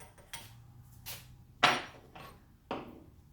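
Hammer blows driving a pin out of a Craftsman 150 drill press, four or five sharp metallic strikes spaced unevenly, with the third the loudest, heard alone without talk.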